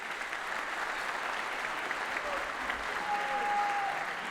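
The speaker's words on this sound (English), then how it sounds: "Give them a round of applause." A school concert audience at a high school wind ensemble winter concert applauds, a fairly faint, even wash of clapping that sounds distant and continues steadily.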